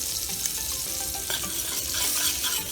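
Flour cooking in hamburger grease for a roux sizzles steadily in a pan, a continuous close frying hiss with faint scraping, no voices.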